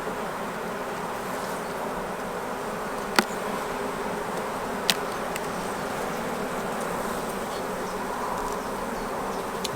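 Honey bees hum steadily from an opened nucleus colony during queen rearing, a dense, continuous buzz close by, broken by a couple of brief sharp clicks.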